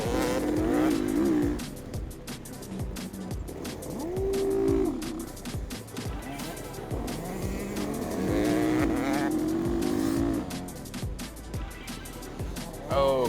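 Gas Gas EX250F four-stroke dirt bike racing in a motocross event in a video game, engine revving hard and rising and falling through gear changes, loud and continuous, with a voice talking over it.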